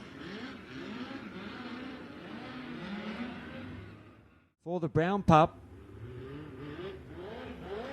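A speedcar engine revs hard on a race track during an Australian Speedcar Championship final, with loud rising and falling gassing bursts mid-clip between stretches of steady engine drone under a commentator's voice.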